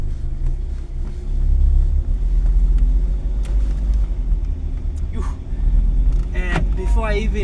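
A car shifted into drive with its handbrake releasing automatically, a low steady engine and road rumble heard from inside the cabin beneath occasional voices and brief clicks.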